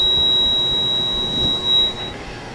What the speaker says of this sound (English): now that the alarm's told us that the pizza's ready